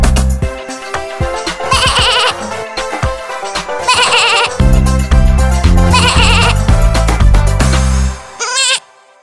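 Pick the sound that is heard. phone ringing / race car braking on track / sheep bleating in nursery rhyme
sheep bleating in nursery rhyme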